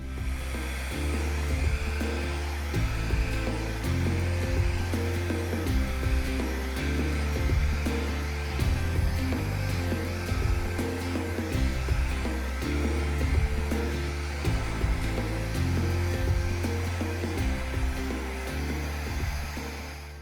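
Air blown steadily across a wet acrylic fluid art paint base in a green and gold palette, a continuous loud whirring rush lasting the whole stretch with no pauses.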